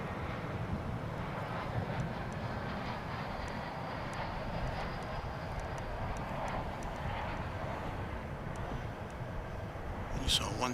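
Distant jet aircraft landing at DFW International Airport, a steady low roar of engines under outdoor wind noise, fairly faint and continuous throughout.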